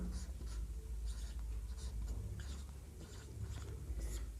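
Chalk or marker writing notes on a classroom board during a maths lesson, a steady run of short scratchy strokes at close range over a low room hum, with no talk.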